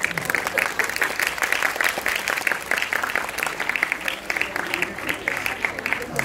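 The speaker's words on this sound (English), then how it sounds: "Applause? Sure." A crowd's applause fills the hall, dense and steady clapping with some voices mixed in, loud and sustained throughout.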